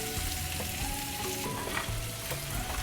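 Sisig stirred as it fries in a pan, with a steady close sizzle and light scraping of the spatula running through the whole stretch, no voices over it.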